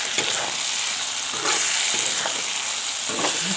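Eggplant and vegetables frying in a pan for an eggplant fry with radish, a steady close sizzle with a few louder bursts as the pieces are stirred.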